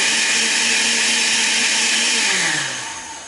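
A kitchen blender whirs loudly and steadily, blending quartered apples with cloves and spices for Pennsylvania Dutch apple butter, the motor pitch dropping and winding down near the end.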